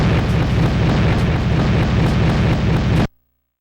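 Bomb explosion in the PS1 game Crime Killer: one loud, dense roar of blast noise that holds for about three seconds, then cuts off abruptly into silence.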